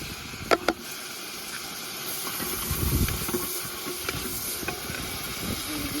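Shallots for mutton Albani sauté in a pan with a loud steady hiss and sizzle. Two sharp utensil clicks come early, followed by scraping stirs, and no one speaks.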